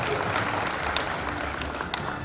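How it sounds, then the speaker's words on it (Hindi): Dense, sustained applause from a large audience, steady and loud throughout with no pauses. "जरा उनके लिए भी तालियां बजा दीजिए"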